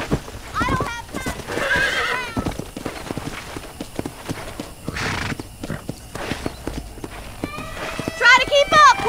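In the video game Red Dead Redemption, a horse whinnies loudly several times while hooves clip-clop steadily underneath, with people talking over the game sounds.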